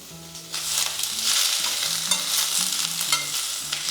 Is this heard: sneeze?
no